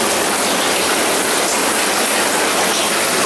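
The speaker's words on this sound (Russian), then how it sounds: "подход к смотровому колодцу, который больше похож на водопад. Отсюда льются грунтовые воды." Groundwater pours into an underground sewer inspection well in a Moscow buried-river collector, like a waterfall, a loud continuous roar of rushing water with no break.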